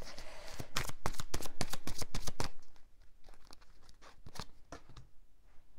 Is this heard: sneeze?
no